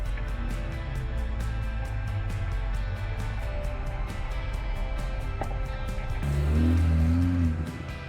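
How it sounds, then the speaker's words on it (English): An Irbis 320 utility buggy drives along forest roads, its engine running with a steady drone and a low rumble that swells near the end, heard from on board without talk. "Meanwhile, we head down forest roads toward off-road terrain, in search of interesting obstacles."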